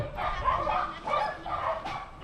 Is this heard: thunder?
no